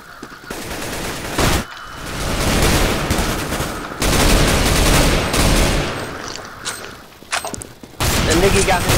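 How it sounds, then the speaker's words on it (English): Gunfire in the video game CS:GO, with shotgun blasts and other shots coming in dense, loud bursts. The bursts are separated by brief near-silent gaps, and voices come through now and then. "The Nikki got me with a shotgun."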